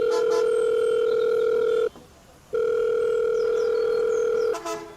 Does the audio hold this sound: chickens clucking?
no